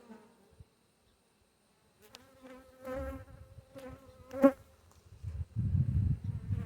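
Honeybees buzz around an open Layens hive during a September frame check, a low hum building in waves with sharper passes close by and a louder stretch near the end.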